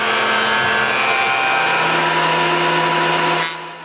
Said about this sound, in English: Alain passes them through the thickness planer